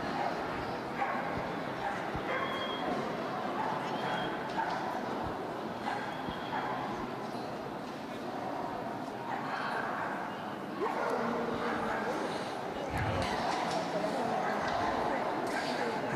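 At an Italian dog show ring for pointing breeds, dogs bark and yip intermittently in the background while someone speaks over a public address system almost throughout.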